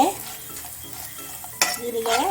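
Cumin seeds sizzle in a pan for garlic chutney with a low continuous crackle, a sharp stirring scrape partway through, and faint voices briefly rising over the frying.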